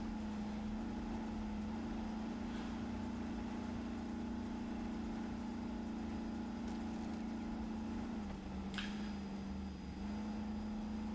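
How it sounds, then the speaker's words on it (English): Engine of a vehicle in the video game RoadCraft, a steady droning hum at constant pitch with a brief dip near the end, running alone without talk. "like this vehicle, its engine sounds do not match its actual movement speeds."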